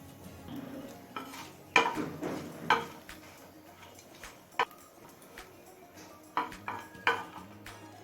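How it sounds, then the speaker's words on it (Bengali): Four dry red chillies frying in hot mustard oil for a lentil tempering, with a soft steady sizzle under sharp clinks and scrapes of a spoon against the pan at irregular intervals. "শুকনো লঙ্কাটা কালার চেঞ্জ হয়ে আসা পর্যন্ত ভেজে নিলাম"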